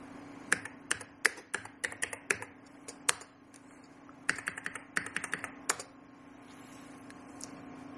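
Fingers type on a computer keyboard in short irregular bursts of crisp clicks, close and distinct, with a pause in the middle, over a faint steady hum.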